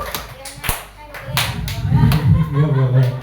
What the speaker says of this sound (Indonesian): Tepuk tangan untuk Bu Dewi.